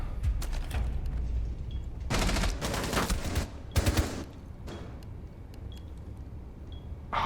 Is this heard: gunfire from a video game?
yes